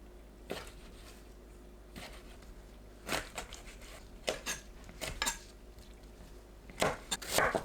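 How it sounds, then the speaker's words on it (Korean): A knife cuts squid into bite-size pieces on a board, producing separate sharp taps and clacks that come irregularly in small clusters, close and fairly quiet. "오징어를 한입 크기로 썰어 주세요"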